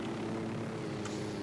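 In the video game Ghost Recon, a helicopter drones steadily as it approaches, its rotor and engine a continuous, fairly faint hum throughout with no speech.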